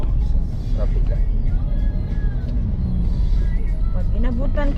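A low, continuous rumble of afternoon vehicles on Aguinaldo Highway sits under a person speaking, with a few faint passing-engine swells.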